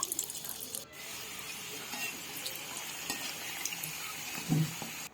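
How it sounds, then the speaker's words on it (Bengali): Samosas deep-frying in a pan of hot oil give a steady, dense crackling sizzle that runs throughout, close and fairly loud, with a brief dip near the start and a small bump toward the end. "একদিকটা ভাজা হয়ে গেলে আর একদিকটা উল্টা পাল্টে ভালোভাবে আমি সব সিঙ্গারাগুলো ভেজে দিলাম"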